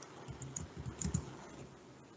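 Soft, irregular clicking of a computer keyboard as text is typed into an MS Teams class notebook, a quick run of keystrokes with a slightly denser cluster midway, close and quiet with no talking.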